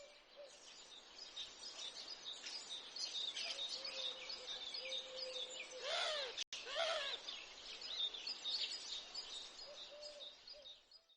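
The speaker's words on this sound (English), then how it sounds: "The birds will twitter quietly while you come up with your thoughts" Birds twitter and chirp softly in a calm outdoor setting, a steady stream of overlapping calls and trills with no talking.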